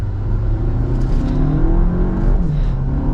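A 2024 Skoda Kodiaq in first gear accelerates hard. Its engine note rises steadily as it revs, heard loud and continuous from inside the cabin.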